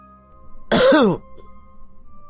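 A single sharp throat clearing, brief and close, set against a quiet room.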